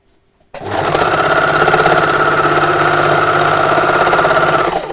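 An overlocker sews a hem in one continuous loud, close run, starting abruptly after a brief silence and running steadily with a rhythmic mechanical chatter until it eases off at the end.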